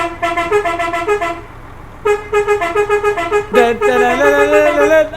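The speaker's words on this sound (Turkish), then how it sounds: "Güzel bir korna taktım dedi. Şu kornayı da bir dinleyelim yaşasın." A modded truck horn on a Mercedes Axor in Euro Truck Simulator 2 blares loudly in long tonal honks, with one sustained blast, a short gap, then a second longer blast that shifts pitch midway.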